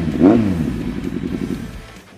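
A four-cylinder engine revs hard up to about 10,000 RPM just short of redline, a loud rising blip near the start that settles into a steady, throbbing idle-like drone for the rest of the moment, with no talk over it.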